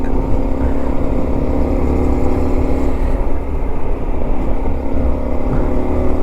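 A Honda Varadero 125 motorcycle cruising steadily in fifth gear on an open road gives a loud, continuous engine drone mixed with heavy wind rush and no clear shifts.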